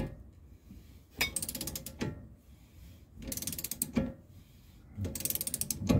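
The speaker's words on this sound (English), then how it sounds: "Tightening the bolts up like we are." A ratchet tightens the hub bolts on a BMW E46 during a wheel bearing and hub install, with several rapid bursts of close, sharp clicking separated by short pauses.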